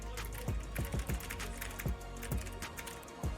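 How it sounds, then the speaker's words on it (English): Rapid, crisp clicking of a pro gamer's computer keyboard during a League of Legends match, irregular bursts of keystrokes heard close and fairly quiet over faint background noise. "Hey, I can actually hear Doublelift's keyboard."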